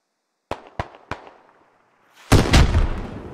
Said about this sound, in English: Rocket shot in.